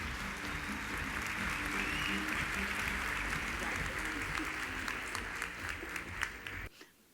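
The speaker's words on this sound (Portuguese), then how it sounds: "Uma salva de palmas para ela." An audience applauds at a lecture as a professor is invited onto the stage, steady sustained clapping from a crowd that thins out and stops near the end.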